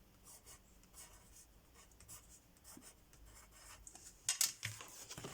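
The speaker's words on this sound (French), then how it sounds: "je vais écrire un peu plus fort" Pen writing firmly on paper sheets for a vintage album notebook, a soft continuous scratching with light rubbing strokes, faint and close, with a few sharper rustles of paper near the end.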